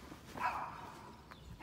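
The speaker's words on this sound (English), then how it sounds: "Another little dog barking at us." A single faint, short bark from a small dog rings out at a distance against quiet background noise, on the Camino Francés pilgrim trail.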